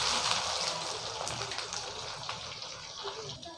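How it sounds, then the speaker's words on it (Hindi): Onions fry in hot oil while a spoon stirs them continuously, a dense, even sizzle heard close up that gradually softens. "प्याज हमारा अच्छी तरह से बराबर फ्राई होगा"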